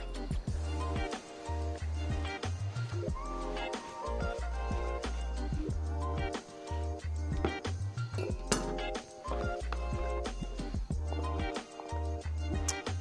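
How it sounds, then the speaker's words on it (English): A kitchen knife rocking back and forth on a cutting board while dicing a potato makes repeated crisp taps and clicks, close and fairly quiet, with a low hum running underneath. "rocking the knife back and forth."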